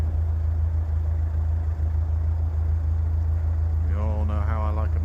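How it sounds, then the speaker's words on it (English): Steady low rumble of heavy traffic on the M40 motorway, distant and continuous, with a voice starting to speak near the end. "I can just about hear the sound of heavy traffic. That is the M40 motorway"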